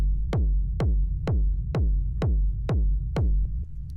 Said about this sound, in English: It's just like a punchy 909 style kick.